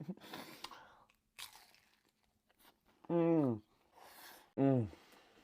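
Crisp bites into a fried Algerian pastry filled with pecans give brittle crunching and crackling in short bursts, close to the mic, between two voiced vocal sounds.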